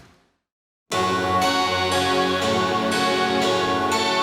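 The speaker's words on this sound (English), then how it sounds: "On top of it, we have sustained choirs." Sustained choir pads swell over layered guitars and harpsichord in a production of a track, entering abruptly after a brief near-silent moment, then a full, loud, continuous texture with regular plucked pulses beneath.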